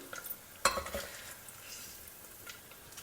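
Paneer frying in ghee, a faint close sizzle with one sharp utensil clack near the start, then quieter bubbling and light scraping with no voices.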